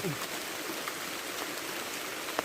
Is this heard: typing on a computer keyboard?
no